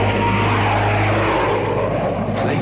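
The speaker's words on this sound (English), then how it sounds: "Planes. How low they're flying." Low-flying airplanes pass overhead with a loud, steady propeller and engine roar that fills the space, with a low hum underneath, in an old film soundtrack.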